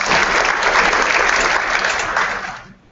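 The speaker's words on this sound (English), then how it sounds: "Round of applause for Dave," An indoor audience at a leadership retreat claps in a steady round of applause for Dave, full and close, fading out near the end.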